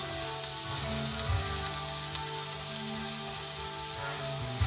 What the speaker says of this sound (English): for a medium rare, you want that to sear for a little bit.